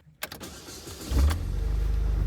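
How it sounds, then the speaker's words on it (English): A GM car engine cranks briefly, then catches and settles into a steady low idle, close by, with no voices. "Engine fires right up."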